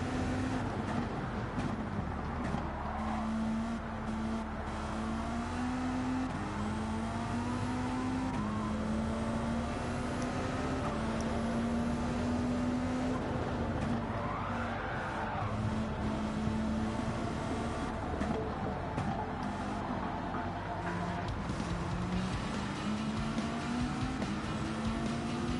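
A race car engine in a video game race at the Spa circuit drones steadily at a fairly low level, its pitch rising and dipping gently through gear changes across the whole span.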